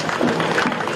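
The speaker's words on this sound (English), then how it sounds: "Let's give it a big round of applause for the James Monroe Archery team" A dense wash of crowd applause and cheering at a Farmers Day parade for a school archery team, a brief steady roar of many hands and voices with no clear individual claps.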